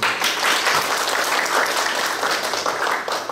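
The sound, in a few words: audience applause for a forum speaker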